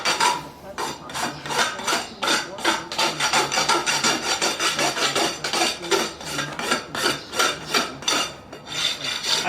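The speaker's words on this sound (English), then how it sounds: "And then you take your nail rasp." A nail rasp filing a brand-new horseshoe on a horse getting its first pair of shoes: quick, loud, rhythmic back-and-forth rasping strokes of metal on metal, close up and continuous.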